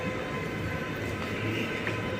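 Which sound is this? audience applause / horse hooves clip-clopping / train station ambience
train station ambience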